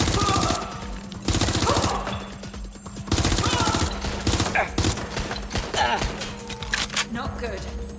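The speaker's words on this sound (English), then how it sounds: "Shots fired!" Rapid bursts of automatic gunfire fill a firefight in the video game Watch Dogs Legion, loud and close, repeating in clattering volleys with short gaps while voices mix in under the shots.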